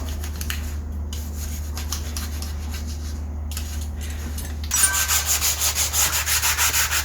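Steady scratchy rasping of sandpaper rubbed back and forth on a water-damaged bathroom door, growing louder and more rhythmic in the final seconds with distinct strokes.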